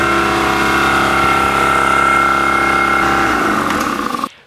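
DeWalt 60-gallon 3.5-horsepower air compressor chugging loudly at a steady pace, then winding down and cutting off just before the end.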